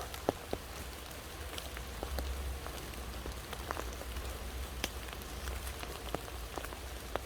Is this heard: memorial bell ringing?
no